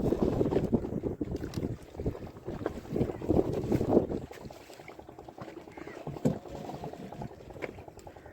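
Strong wind from a Kalbaishakhi storm on a river during a fishing trip, gusting and buffeting the microphone in loud rushing waves that ease off partway through, with faint water sounds beneath.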